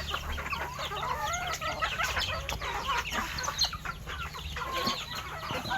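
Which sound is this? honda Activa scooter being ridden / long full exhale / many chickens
many chickens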